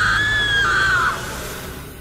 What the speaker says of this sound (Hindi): वो जोर से चिल्लाई